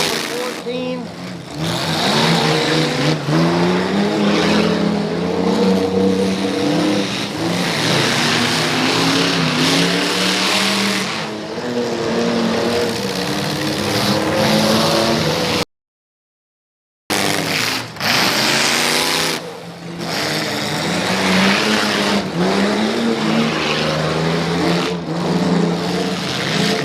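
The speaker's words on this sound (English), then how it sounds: "Check out the homemade exhaust on number 14." Demolition derby car number 14 with a homemade exhaust revs loud and raw at a Spring Slam derby at Upperco Motorsports, a harsh continuous engine roar with surging revs and crowd and announcer talk over it.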